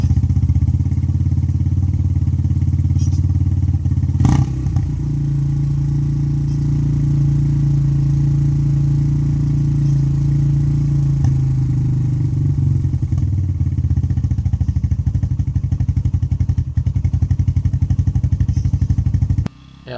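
A Honda XR200 motorcycle engine idles after a tune-up, a loud, close, steady thumping putter with a lumpy beat that runs throughout, briefly blipping early on, then cutting off at the end.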